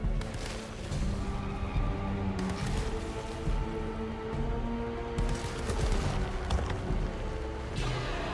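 Repeated gunfire at a tree in the Alone in the Dark remake, a dense run of sharp shots over a steady rain-like patter, with louder bursts spaced every couple of seconds.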